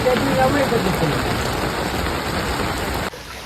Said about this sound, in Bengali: যত রাস্তায় যাচ্ছে বৃষ্টিও বাড়ছে